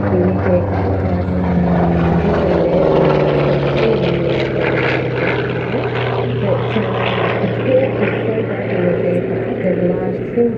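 A 3050-horsepower Hawker Sea Fury piston aircraft engine running steadily on the ground, a loud, close, continuous propeller drone with a deep rumbling throb that stays even throughout, with a voice talking over it.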